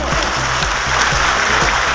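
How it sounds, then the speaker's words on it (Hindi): Crowd at a district-level Rajpurohit community gathering in Bhinmal, applauding loudly for workers, with a dense, continuous wash of clapping and a low rhythmic thump underneath throughout. "एक बार ये सब कार्यकर्ताओं के लिए जोरदार तालियां बजाओ।"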